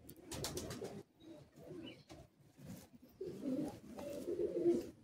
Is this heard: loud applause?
no